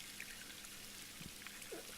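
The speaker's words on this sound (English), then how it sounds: "We need a water leak spray or something." A water leak spray effect for a game's Creation Kit: a faint, steady hiss of trickling, pouring water, with small splashy droplet accents scattered throughout.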